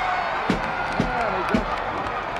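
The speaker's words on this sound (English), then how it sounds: "Some cheering and some booing." Wrestling arena crowd in a steady dense roar of cheering and booing throughout, with a few sharp slaps or thuds rising above the noise.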